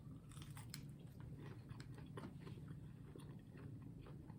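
Quiet crunchy chewing and biting on Burger King bacon cheesy tots, a run of soft irregular crunches and squishes heard up close without talk.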